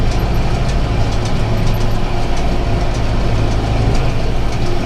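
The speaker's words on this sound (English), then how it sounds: "The tractor's grunting a little bit." Tractor engine labouring under load while pulling a round baler through hay, a loud, continuous low drone with a steady rumble and machinery clatter, no talking.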